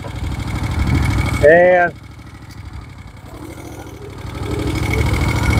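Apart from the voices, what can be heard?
1972 Moto Guzzi Eldorado police motorcycle engine idling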